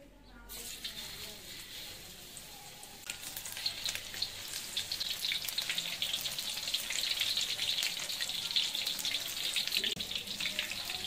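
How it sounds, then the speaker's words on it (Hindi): Fish pieces dipped in besan batter frying in hot oil in a kadai, producing a steady, dense sizzle that builds and holds close up, with some faint clatter near the start. "बाद में इसके अंदर डिप करके फिश, तो फिर इसके अंदर डालेंगे कढ़ाई में"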